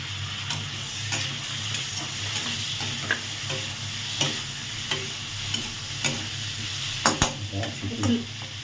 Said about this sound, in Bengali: হ্যাঁ, হ্যাঁ, টমেটোগুলো হাঁটিয়ে দাও।